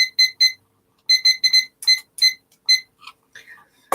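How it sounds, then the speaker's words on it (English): An alarm goes off in a rapid electronic beeping pattern, loud and close, with short bursts in clusters and a brief noisy sound at the end. "Oh, I did hear the alarm."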